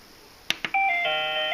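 A Breville Smart Scoop ice cream maker plays its alert tune after two sharp clicks. A bright, clear electronic melody of sustained tones follows, close and alone.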